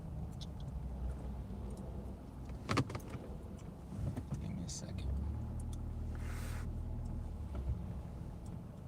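A car engine rumbles low and steady as the driver pulls out of a parking spot, with a few clicks and rattles inside the car and someone talking over it.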